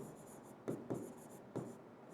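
A teacher writes on a board in a quiet classroom, faint dry scratching with three short, sharper taps of the marker or chalk.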